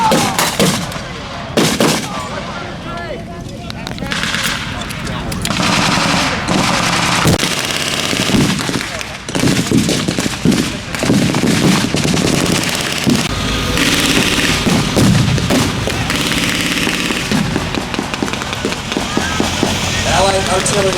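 A WWII tank battle between American and German units, with repeated gunfire bursts and booming artillery throughout, loud and dense, while people talk and shout over the combat.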